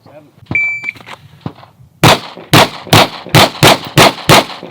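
Rifle fired on full auto at a shooting drill: a clipped voice and a beep come first, then a sharp series of about seven loud, close, evenly spaced shots.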